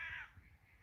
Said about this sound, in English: So we got a couple of crows about this morning.